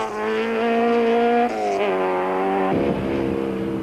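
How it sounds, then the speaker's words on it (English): Nissan Sentra rally car with exhaust trouble, engine droning loud and close at high revs, stepping down through two gear-change shifts, with a rougher, crackling burst near the end. "a telltale sign of trouble coming from the Sentra's exhaust"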